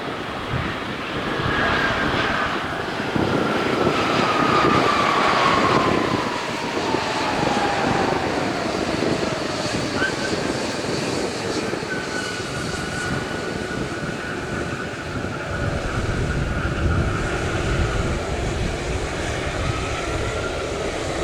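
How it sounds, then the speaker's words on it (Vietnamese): A Vietnam Airlines Boeing 787 lands on runway 25R at Tan Son Nhat airport in strong wind, a loud sustained jet engine roar with a descending whine, steady rumble and no talk. "Và bây giờ thì chiếc máy bay đang hạ cánh xuống đường băng 25 phải,"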